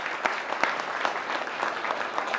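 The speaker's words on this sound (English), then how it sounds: "Let's give a round of applause to my good brother, Black Dot." Audience applause for a guest introduced at a mosque gathering: steady, dense clapping from a sizable crowd, fairly close, with a few sharper individual claps standing out, no voices.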